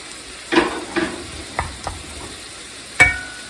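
Garlic cooking in a pan for linguine gives a faint sizzle under a handful of sharp scraping and clinking stirs, with a final bright metallic tap near the end.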